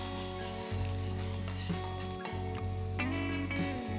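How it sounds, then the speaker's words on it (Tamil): Chicken for Japan chicken frying in a pan over a high flame: a steady, fairly quiet sizzle with a constant background hum and occasional soft clinks of stirring. "ஸோ அந்தளவுக்கு நல்லா ஃப்ளேம் கொஞ்சம் ஜாஸ்தி வச்சுட்டே நல்லா ஃப்ரை பண்ணுங்கள்."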